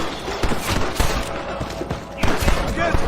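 Gunfire in the Red Dead Redemption video game, a rapid scatter of shots popping in uneven clusters under the game's background sound and shouted voices.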